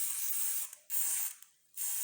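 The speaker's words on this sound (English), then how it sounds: "go ahead and spray the ballistol" Ballistol foam cleaner sprays from an aerosol can onto parts of a Smith and Wesson M&P 15-22 rifle being cleaned, in three close, loud hissing bursts separated by brief pauses.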